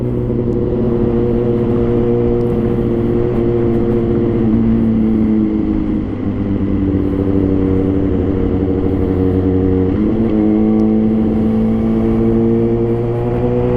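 A 2020 Kawasaki ZX636 sport motorcycle with full modifications runs steadily while being ridden, its engine holding a loud, continuous drone that shifts pitch around the middle and again near the end as the revs change, with no talk.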